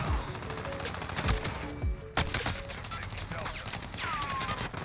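Rapid gunfire from an M4 rifle in Call of Duty: Modern Warfare, with several quick bursts of sharp close shots packed into a few seconds and a brief lull partway through.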